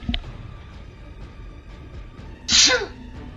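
A single sharp, loud sneeze bursts out near the end after a stretch of quiet background noise.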